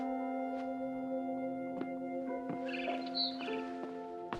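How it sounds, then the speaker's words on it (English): A barn swallow chirps in the video game What Remains of Edith Finch, giving short high twittering calls over a steady, tonal game soundscape of held notes. "Then I heard chirping outside my window. It was a barn swallow going back to her nest."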